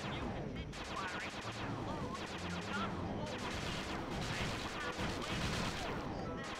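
Gunfire in the game Sly 2: Band of Thieves, a steady dense stream of rapid shots and impacts under constant loud game noise, with brief swelling bursts throughout.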